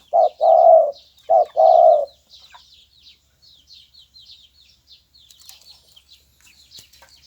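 A spotted dove gives four loud, close coos in a quick two-pair pattern, then falls silent while faint, scattered chirps from small birds continue in the background.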